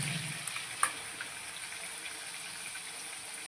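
Onion paste frying in hot oil for paneer do pyaza, a steady close sizzle with a couple of small pops, continuing evenly until it cuts off abruptly.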